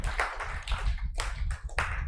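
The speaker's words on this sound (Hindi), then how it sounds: "एक बार और ताली बजाओ इसके लिए" An audience applauds at a talk, with a short burst of clapping that comes in several quick waves at moderate distance and fairly low volume.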